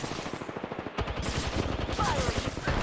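Rapid automatic gunfire from Apex Legends rattles in quick, evenly spaced bursts, loud and close, pausing briefly before another dense volley continues to the end.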